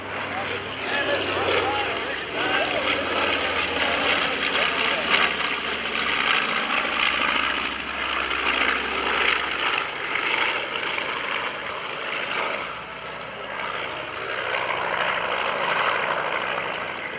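A C-47 Skytrain propeller aircraft flies over an airshow, its broad, steady engine drone holding for many seconds under a crowd, with people talking throughout.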